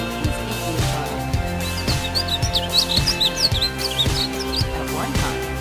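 A small songbird with bright yellow-green plumage sings a string of quick, high chirps and trills over a steady rhythmic musical backing.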